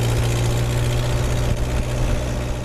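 A rebuilt Land Rover Lightweight engine runs steadily close to the microphone, a loud, even idle rumble with no talk.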